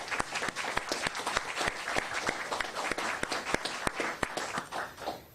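Crowd at a Houston mayoral press event applauds for the Salvation Army, a moderate burst of clapping from a modest group, fairly close and sustained for several seconds.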